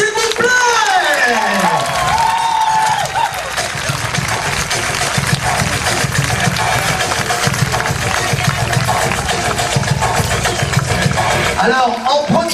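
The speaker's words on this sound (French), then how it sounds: "je vous demande des applaudissements, s'il vous plaît." An audience at an Indian summer pow-wow show at OK Corral breaks into sustained, loud applause, dense clapping that fills about ten seconds between bursts of an announcer's amplified voice at the start and end.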